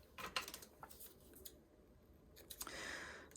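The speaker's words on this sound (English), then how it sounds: "These are my Cricut scissors." Cricut scissors snipping sewing thread during appliqué work: a few quiet, sharp clicks and snips spaced unevenly over a soft room background, with no talking.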